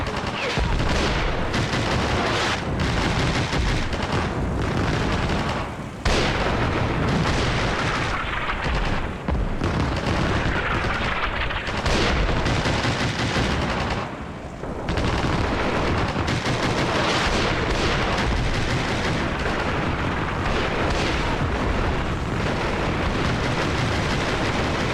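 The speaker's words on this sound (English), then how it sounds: "Grenade launchers are so cool." Dense, continuous battle noise from the Armored Brigade II wargame with the Future Konflikt mod: grenade launcher fire and explosions. Rapid overlapping bursts and blasts run loud for nearly the whole stretch, easing briefly twice.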